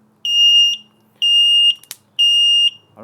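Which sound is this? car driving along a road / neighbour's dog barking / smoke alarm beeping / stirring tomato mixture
smoke alarm beeping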